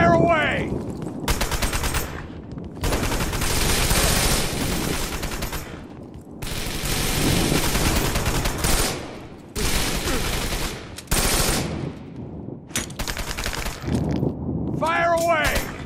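Bursts of heavy automatic gunfire in the video game Wanted: Dead, loud and rapid in long rattling volleys separated by short gaps, with voices and shouts mixed in.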